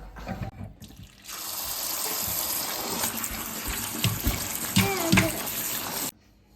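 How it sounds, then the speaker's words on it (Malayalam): Hot water runs steadily from a kitchen tap over grapes picked from their bunch, a loud continuous splashing stream that starts abruptly, sometimes shifts as the grapes are rinsed, then cuts off. "മുന്തിരി ഇങ്ങനെ അടർത്തിയെടുത്തതിന് ശേഷം നല്ല ചൂടുവെള്ളത്തിൽ കഴുകി വൃത്തിയാക്കി എടുക്കുക"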